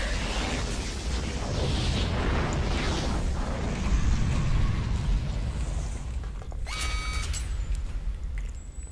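In the Roblox game, a dense, rumbling explosion roars continuously, with a broad low boom swelling and fading. A few sharp metallic clicks come through near the end.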